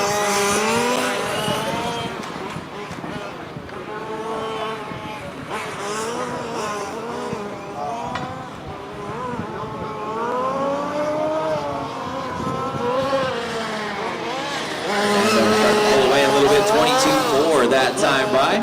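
Race cars roar down the back straight of a racing circuit, with engine notes sweeping up and down through gear changes and passes, and the drone swells near the end. A commentator talks continuously over the engines throughout.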